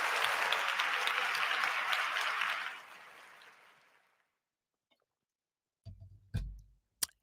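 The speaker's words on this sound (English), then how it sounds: "Let's give Kendrick Bourne a round of applause" Crowd applause for Kendrick Bourne, steady and full at first, then thinning out and fading to silence, followed by a few sharp isolated knocks and clicks.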